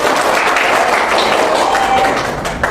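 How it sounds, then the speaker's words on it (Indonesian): Students clapping in a classroom, a short, loud burst of applause that fills the room and holds steady before easing slightly. "Beri dulu tepuk tangan."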